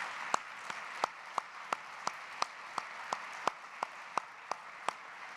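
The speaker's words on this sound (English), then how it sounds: "Let's give them all a round of applause" Sparse clapping from a small group at a teacher awards dinner, distinct sharp claps at an uneven rhythm, roughly a dozen clear hits over a low room murmur.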